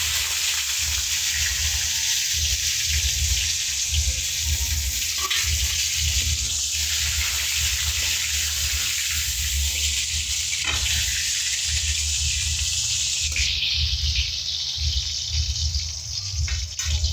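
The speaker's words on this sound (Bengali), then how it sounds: "এবার আমি আলুগুলো লাল লাল করে ভেজে নেব।" Potatoes fry in hot oil in a kadai until reddish, a loud continuous sizzle that holds steady with light stirring scrapes and no talk.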